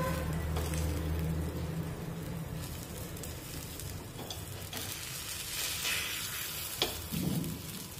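Egg appe sizzling and frying in an appe pan, a steady close crackle with light stirring or handling noises throughout, no talking.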